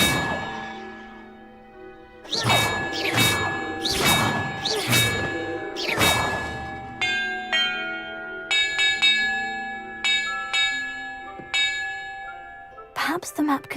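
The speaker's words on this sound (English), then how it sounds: "Perhaps the map contains clues about the order I'm supposed to ring the bells in." Bells ring in Hogwarts Legacy: five or six loud, close, resonant clangs in quick succession, each with a long ringing tail, then several softer, higher chimes that fade out.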